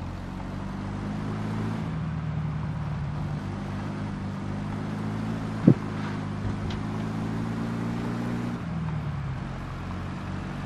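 A steady low car engine in the video game Mafia 2 drones throughout, shifting pitch slightly as it drives, with a single sharp click midway.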